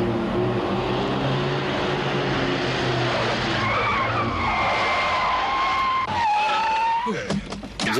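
Car skidding under reckless driving, rising and sliding tire squeals over a steady engine roar, loud and close, ending in abrupt screeching bursts.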